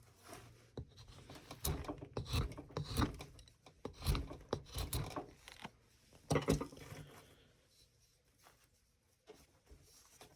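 A hand chisel carves a small wooden Santa figure, producing irregular scraping, rasping cuts and light taps that come in bursts, close and fairly quiet, with short pauses between strokes and no talk.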